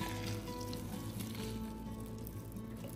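Boiling hot water poured from a kettle over dry rice noodles in a bowl, a steady close hissing, splashing stream that runs without a break from start to end, with no talking.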